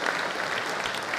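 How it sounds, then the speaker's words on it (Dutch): A village audience claps for a Second World War monument during a local heritage society's news report; a brief, dense burst of applause from many hands, fairly close and steady, with no talk over it. "En u mag best even klappen voor zo'n mooi monument."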